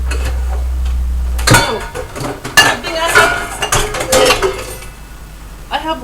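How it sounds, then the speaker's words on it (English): Mixing bowls clinking and clattering while being handled in a home kitchen, a series of sharp close metallic and ceramic knocks at irregular intervals after a steady hum. "I have lots of mixing bowls."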